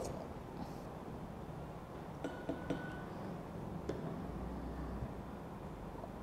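A few light clinks of a spoon stirring a propolis mixture inside a glass, sparse taps close by over quiet room noise.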